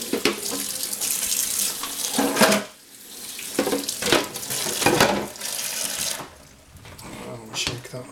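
A kitchen tap runs hard into a sink while pans are rinsed during washing up after a Moroccan lamb and jacket potato meal. The loud, steady gush is broken by brief dips as the flow shifts.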